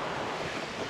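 Strong wind blows outdoors on Helags mountain, a brief, loud, steady rush buffeting the microphone with no voices.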